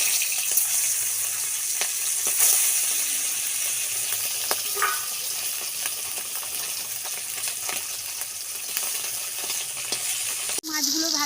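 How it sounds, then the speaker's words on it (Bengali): Fish fries in hot oil in a pan for a mustard fish dish, giving a steady crackling sizzle that carries on throughout. Small pops and spits break the hiss here and there, and a brief clatter comes near the end. "বাকি তিনটে মাছ আমি ভেজে নেব।"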